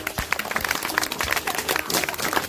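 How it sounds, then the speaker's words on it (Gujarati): An audience claps in applause at a school life skill mela quiz after a correct answer, a brief dense patter of hand claps from a crowd, moderately loud and continuous. "તાળી પાડો."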